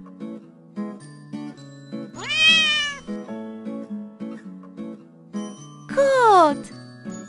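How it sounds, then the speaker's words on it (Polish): Two cat meows, one at a time with a pause between, over a light tinkling melody and a steady plucky musical loop. "Kot!"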